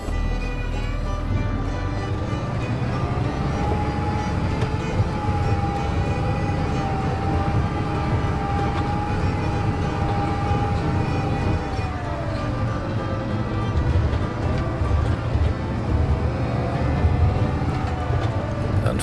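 A Fendt tractor engine runs in Farming Simulator 22 on an Alpine map during field cultivating and fertilizing, a continuous droning rumble with a whining tone that rises, holds and falls, with no talking.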